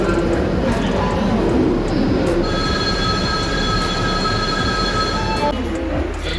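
A train bound for Nagpur moves through a busy station, with wheels rumbling and squealing amid crowd noise and people talking nearby.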